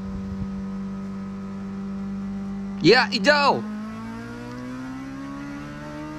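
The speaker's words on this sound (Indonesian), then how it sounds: "kencang sekali itu Honda Civic Turbo" A Honda Civic Turbo race car in a 300 km endurance race at Sepang drones with a steady engine tone that slowly climbs in pitch as it accelerates. A voice briefly speaks midway.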